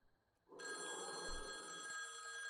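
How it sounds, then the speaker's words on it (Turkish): A telephone rings in the Boogeyman horror video game, a bright sustained bell tone starting abruptly after near silence and holding steady, moderately loud against a quiet backdrop. "Bakın telefon çaldı."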